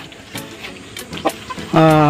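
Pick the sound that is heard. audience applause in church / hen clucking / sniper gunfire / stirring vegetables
hen clucking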